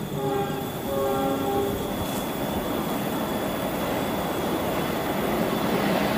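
The Argolawu passenger train rolls past on a hillside line in Tumiyang, a steady loud rumble of wheels and cars with a brief horn-like tone at the start, no voices.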